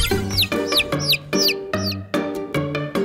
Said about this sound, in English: The cow spots a chicken.